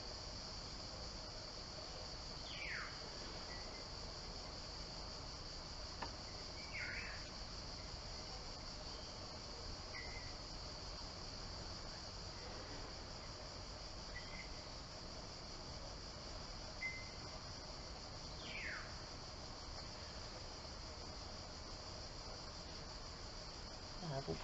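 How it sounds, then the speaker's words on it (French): Crickets chirring in the countryside, a faint, continuous high-pitched trill with a few brief bird calls scattered over it, heard alone and at a distance. "Vous pouvez entendre le chant des oiseaux, le son des cloches, de la chèvre."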